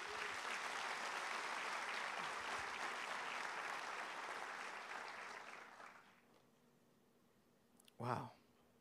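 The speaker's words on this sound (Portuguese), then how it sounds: "Vamos dar um aplauso ao Senhor Jesus?" A church congregation claps for Jesus in a long, dense round of applause that fades out after about six seconds, followed by near silence and one short loud vocal exclamation.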